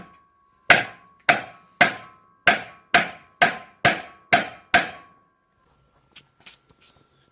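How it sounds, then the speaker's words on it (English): Hammer blows knocking a U-joint off a vehicle driveshaft: eight sharp, ringing metallic strikes at a steady pace, close and loud, followed by a few lighter taps after a pause. "removing the U-joint off of the drive shaft"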